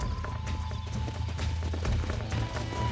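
Horse hooves clip-clop steadily in Red Dead Redemption on PS5, a continuous, even trotting rhythm of fairly close hoofbeats with no talk over them.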